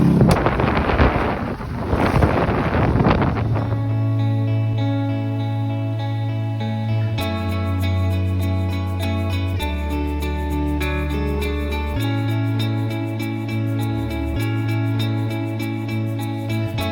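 Small Holder 17 / Vagabond 17 sailboat motoring on a very windy Lake Lavon in Texas, heavy wind buffeting the microphone at first, then a steady droning motor tone that shifts pitch a few times, loud and close.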